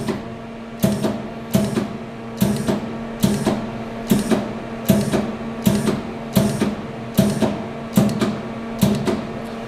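A welding machine torch trigger is pressed in short bursts to purge gas from the regulator and hoses: a crisp click and hiss repeats about a dozen times at an even, steady rhythm.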